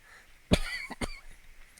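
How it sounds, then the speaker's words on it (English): Two quick close coughs, the first louder, against quiet background. "Sorry about the coughing."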